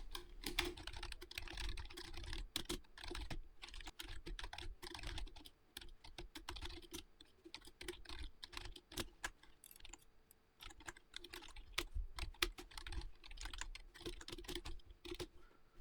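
Typing on a computer keyboard, irregular bursts of quick, close clicking keystrokes with brief pauses between runs, fairly quiet overall.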